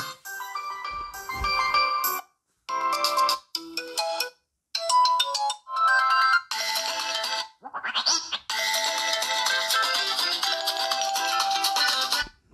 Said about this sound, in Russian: Фирменные веселые рингтоны.